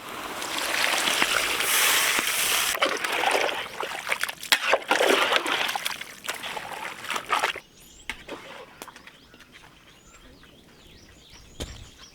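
Water splashes and trickles loudly for several seconds into a cooking pot of masala-coated Coorg-style pork, then the pouring stops and quieter outdoor ambience with faint birdsong remains.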